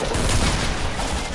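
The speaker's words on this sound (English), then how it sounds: "He shot through the wall!" Gunfire rips through a wall during an online shooter match, a dense, loud burst of rapid shots filling the moment with no pause.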